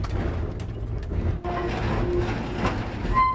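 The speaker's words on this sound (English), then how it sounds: "We go on the Applewine Express, which is a merry tram that takes us through the city" The Applewine Express tram rolls through Frankfurt city streets, a steady low rumble of wheels and motor heard from inside, continuous and fairly close with faint rattles and a brief tone near the end.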